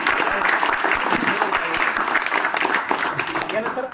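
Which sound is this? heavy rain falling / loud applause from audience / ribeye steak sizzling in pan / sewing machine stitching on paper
loud applause from audience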